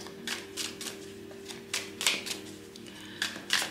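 Tarot cards being shuffled by hand in repeated quick riffling bursts, close and moderately loud, over a faint steady background hum.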